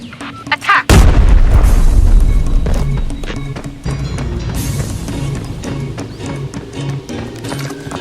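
Grenade explosions in the video game Arena Breakout: a loud explosive boom hits about a second in, followed by a dense rumble of blasts and crackling debris that gradually settles into continuous noisy action.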